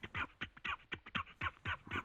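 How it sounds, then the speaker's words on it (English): A duck quacks in a quick series of about nine evenly spaced, nasal quacks, quiet and alone, with no talk. "quack said a duck"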